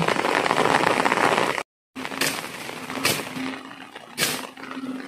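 Heavy rain pours down in the mountains, a dense steady hiss of falling water cut by a brief drop-out, followed by softer rainfall with sharp bursts and a low hum underneath.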